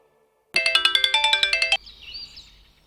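A mobile phone ringtone plays a quick, bright repeating melody of about a dozen pulsing notes after a moment of silence, then cuts off into a faint higher electronic tail.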